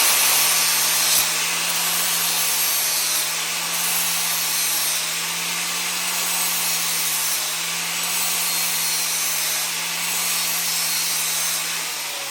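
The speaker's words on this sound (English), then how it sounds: "I'm going to hit this up with the grinder" An angle grinder works on the metal roll cage of a race boat, giving a loud, steady, continuous whine with a constant low hum that barely changes throughout, and no talking.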